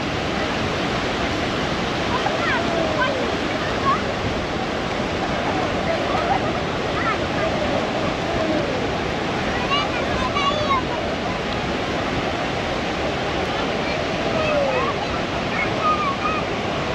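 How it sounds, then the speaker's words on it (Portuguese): Steady surf on the beach at Praia da Pompeia in Santos rushes in a continuous, loud wash of breaking waves, with faint distant voices and bird-like chirps mixed in. "o mar no raso, as ondas são mais fracas"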